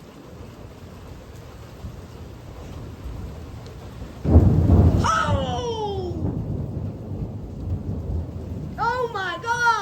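Thunderstorm during a spring severe-weather chase, with a loud close thunder crack and rumble over steady rain, followed by a brief startled exclamation; bird-like chirps appear near the end.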